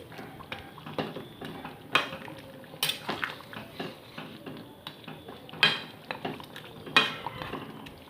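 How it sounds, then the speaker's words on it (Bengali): A spoon stirs garam masala into chicken curry gravy in a pot, giving repeated scraping and clinking knocks against the metal at an irregular pace over a soft background sizzle, close up. "দিয়ে ভালো মতো গরম মশলাটাকে আমি ঝোলের মধ্যে মিশিয়ে নিচ্ছি"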